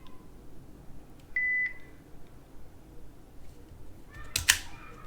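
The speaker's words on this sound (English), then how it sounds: "It's beeping and it was blinking." A single steady electronic beep sounds briefly, then a short burst of chirpy electronic tones follows near the end, against quiet room noise.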